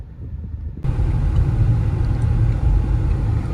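A 2020 Toyota RAV4 Hybrid accelerates on the road with a steady low rumble from the engine and tires. The rumble swells suddenly after a quiet moment and stays loud and continuous, heard from inside the cabin with no talking.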